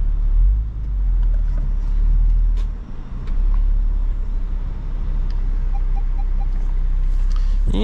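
A matte-finish Range Rover Velar rolls slowly and pulls in to park, its engine a steady low rumble near and loud with a brief dip in the middle, no voices over it.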